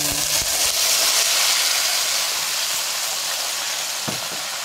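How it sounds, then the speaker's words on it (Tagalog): Beef stir-frying in a hot pan with sesame oil, a loud, steady broadband sizzle that continues throughout, with a faint clink near the end. "ilalagay ko na tong ating beef. Parang ating i-stir fry to without the garlic and the onion."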